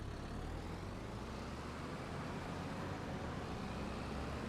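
A tractor engine in Farming Simulator 22 drones steadily while driving, a dense, low, even rumble with no breaks, fairly quiet overall.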